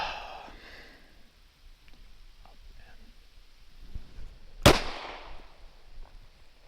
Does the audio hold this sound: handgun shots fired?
yes